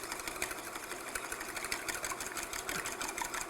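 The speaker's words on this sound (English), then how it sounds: "And then I'm just going to whisk that." An egg being whisked by hand for Nanaimo bars, a steady rapid clatter of the whisk against the bowl running continuously at close range with no talk.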